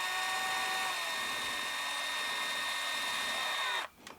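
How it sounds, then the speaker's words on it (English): A power drill runs at a high, steady whine, close and continuous, then cuts off abruptly near the end as it spins down. "we'll try to listen to the pitch of the drill"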